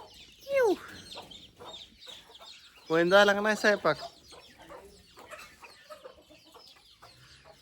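Hens cluck in a burst of squawks midway, with a sharp cackle near the start, over quiet background and brief people talking.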